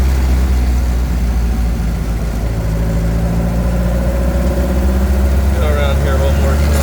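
A 1928 Model A race car with an overhead valve head conversion runs steadily, its low engine drone constant and fairly loud throughout, with a faint rising tone near the end.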